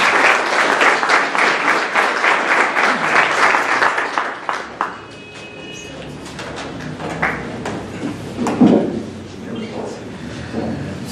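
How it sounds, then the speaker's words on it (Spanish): Audience applause at a university book presentation, a dense, steady clapping filling the room for about four seconds, then fading into scattered claps and low room noise. "doctor Homero Ango Aguilar, para lo cual pido un voto de aplauso."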